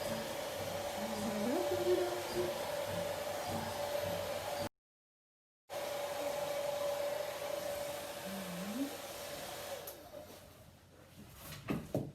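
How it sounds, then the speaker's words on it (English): A steady whirring old hair dryer hums on a low setting, broken by a brief gap, then cuts off near the end with a few clunks. "I'm going to grab the hair dryer."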